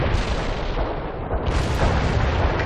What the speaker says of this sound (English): Товарищ командир, artillery strike on the way